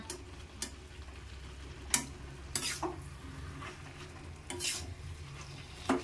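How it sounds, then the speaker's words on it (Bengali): Sapune greens with potatoes being stirred and turned over in a pan, giving intermittent scraping strokes and spoon knocks against a soft sizzle, close and quiet. "ভালো করে এটাকে একটু উপর নিচে করে দিতে হবে।"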